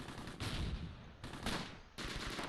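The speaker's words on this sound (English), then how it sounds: "Romeo, you're going to have to gun them down." Bursts of machine gun fire from an MG42 in the WWII tactics game Close Combat: Gateway to Caen, three loud sustained volleys with brief gaps between them, heard alone without talk.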